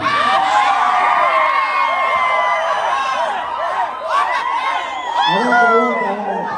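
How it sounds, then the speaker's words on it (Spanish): A carnival crowd at a closing-night event shouts and cheers loudly and continuously, with whoops and children's yells over a dense roar, swelling again near the end with a chanted call. "quiero que se escuchen los gritos para el Zombie"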